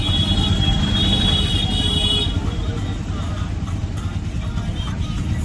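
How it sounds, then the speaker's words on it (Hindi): Steady low road rumble of heavy traffic heard from inside a car on a drive toward Rishikesh and Haridwar, a continuous dense hum with a faint high tone above it. "बहुत ही गंदा ट्रैफिक।"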